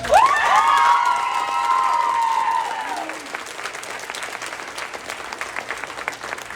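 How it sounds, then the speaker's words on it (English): Girls at a sports team awards banquet cheer and applaud for an MVP, a loud burst of clapping with high shrieks and shouts that fades into lighter scattered clapping. "Girls, please stand again and cheer your hearts out for your MVP."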